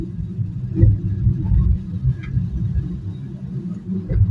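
A car cruising at about 36 km/h on a Dhaka city road near the Mouchak–Moghbazar flyover gives a steady low interior rumble with small bumps and fluctuations, heard from inside the cabin.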